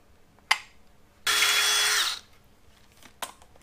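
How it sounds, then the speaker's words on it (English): A power drill whirs steadily for about a second while installing an attic ladder, loud and close, framed by a couple of sharp knocks before and after. "and then we're going to drill"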